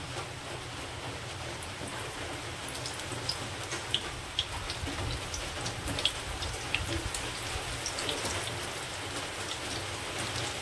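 Prawn cutlets sizzle in hot oil in a pan, a dense, steady crackling hiss with occasional sharp pops, faint and continuous with no voices.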